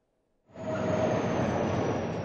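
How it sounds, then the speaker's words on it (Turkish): Export freight train of 42 wagons departing Çerkezköy, Tekirdağ, bound for China: after a short silence, a loud, steady rumble of rolling wagons rises quickly and holds, with a faint high rail whine above it. "İkinci ihracat treni 20 Aralık'ta Tekirdağ'ın Çerkezköy ilçesinden 42 vagonla hareket etti."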